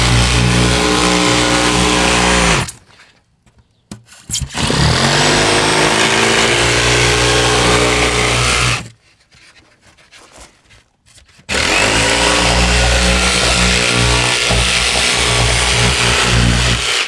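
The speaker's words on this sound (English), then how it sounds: "And then hopefully this jigsaw can get through." A jigsaw cuts a circle through floor insulation under radiant heated flooring, whining loudly and steadily in three long runs, with two short quiet pauses between them.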